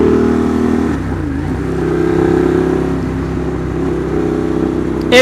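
A 2015 Ducati Monster 821 motorcycle engine runs loud and close, revving with a steady mid-range drone that rises and falls over several seconds.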